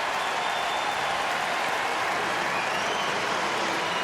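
At a Cubs–Diamondbacks baseball game, the Arizona home crowd cheers and claps after a Goldschmidt home run, a dense, continuous roar of stadium noise that fills the whole stretch evenly.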